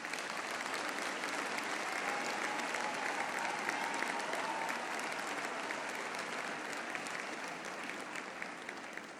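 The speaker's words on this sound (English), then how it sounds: "one more round of applause for our graduates" Applause for graduates at a Faculty of Health Sciences autumn graduation ceremony, a large hall of clapping hands, dense and steady for the whole stretch, heard from a distance and faint.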